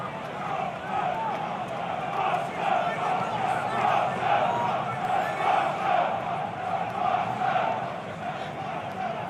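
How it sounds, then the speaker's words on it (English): At a packed stadium for an EFL Championship match between Watford and Stoke City, the home football crowd roars with a sustained murmuring groan that swells and ebbs. A commentator's voice sits on top. "you can hear the annoyance in the home crowd. Packed house this afternoon."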